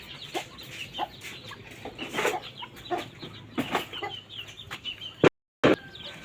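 Chickens clucking in a small backyard flock where a duck is also kept, scattered short clucks near and far over a faint outdoor background, with a brief dropout near the end.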